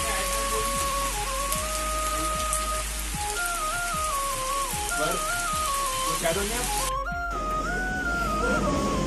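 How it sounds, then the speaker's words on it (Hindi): Steady rain pours down during a roadside stop on a road trip from Bilaspur, Uttar Pradesh, to Nainital, a broad hiss running the whole time with low thumps and a voice-like tonal line drifting through it. "ये वो है सबूत है कि बारिश पड़ी थी हम ऐसे ऐसे रुके थे।"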